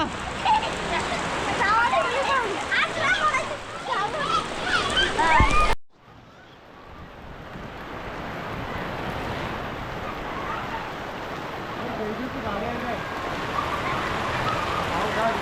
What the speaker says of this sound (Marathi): मुसळधार पावसाची एंट्री झाली आहे